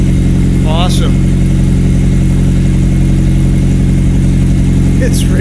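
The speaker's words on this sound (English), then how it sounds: "Just got the exhaust on Brandon's car." A Mazda Miata fitted with a new ISR exhaust idles loudly and close, giving a deep, steady, throbbing burble throughout, with brief whistle-like chirps near the start and end.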